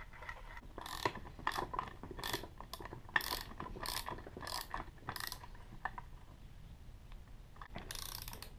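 Nut being tightened on a homemade bearing press, a series of close ratcheting clicks in quick bursts over several seconds, separated by short pauses, with no talk.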